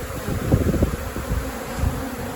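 Native honeybees buzz steadily during a hive rescue in Manacor, Mallorca, a dense close hum of many wings with small swells in loudness over a low rumble.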